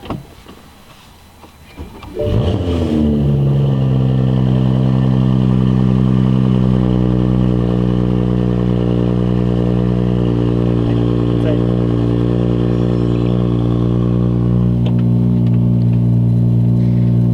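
A car engine fitted with an aftermarket downpipe exhaust turns over after a short quiet moment, then settles into a loud, deep, rumbling idle that holds steady.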